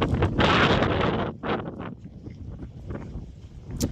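Wind gusts at a lakeside spot in Portugal, buffeting the microphone with a loud rush early on and then easing into softer, uneven gusts.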